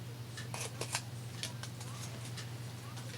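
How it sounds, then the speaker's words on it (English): Scissors snip through card in a run of short, crisp cuts during papercraft work for a Christmas card, quiet and close over a steady low hum. "I'm going to have to cut some more, down to 2 tabs."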